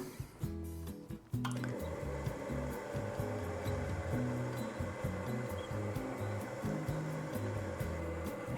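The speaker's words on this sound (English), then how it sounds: "we're gonna do our first attempt at using a pasta machine" A pasta machine rolls ravioli dough with a steady mechanical hum and low rhythmic rumble that starts after a brief clatter and continues evenly, close and moderately quiet.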